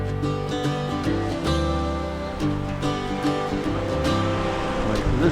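Steady wash of lake waves and wind on Lake Winnipeg as a small boat launches from shore, a continuous loud roar with no talking.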